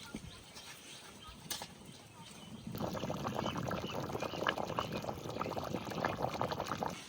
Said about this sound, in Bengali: আজকে একটু পাতলা পাতলা ঝোল করবো, ওই জন্য একটু জল বেশি দিচ্ছি